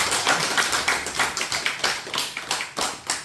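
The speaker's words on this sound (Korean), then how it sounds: "여러분 환영의 박수 부탁드립니다." An audience claps in welcome for a guest at a Korean talk event, a steady round of applause with rhythmic peaks that carries on at an even level throughout, with no voices heard over it.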